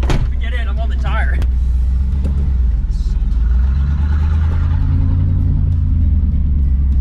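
A Chevrolet Blazer fitted with a roof rack driving along, its engine rumbling loudly and steadily from inside the cabin, with a voice briefly heard early and road noise throughout.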